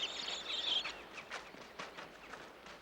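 Little birds chirp in spring, a cluster of bright tweets up front followed by scattered lighter calls, fairly faint and set against a quiet outdoor background.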